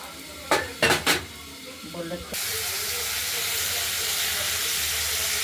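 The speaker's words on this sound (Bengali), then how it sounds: "কপিটা একটু লাল লাল করে ভাজা করে নেবো" A few metal clinks of utensils against a pan come first, then cauliflower hits hot oil and a loud, steady frying sizzle and hiss takes over for the rest of the clip.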